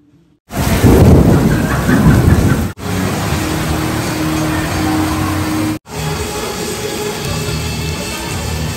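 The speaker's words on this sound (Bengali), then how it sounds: "এরপরই শুরু হয় প্রচণ্ড বৃষ্টি এবং সাথে" Heavy thunderstorm over Montreal, Canada, with loud, dense rain and rumbling thunder, a strong broadband roar near the start easing into steady downpour that pauses briefly twice; no talk.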